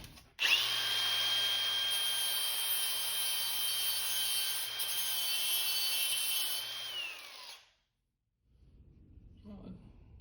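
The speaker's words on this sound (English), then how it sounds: "let's do a little bit of sparking. Just gonna take a piece of scrap 14 gauge, not too thick, not too thin." A Milwaukee 18V cordless angle grinder with a flap wheel grinds scrap 14 gauge steel, a loud steady high whine that runs for about seven seconds and then cuts off, followed by faint handling noise.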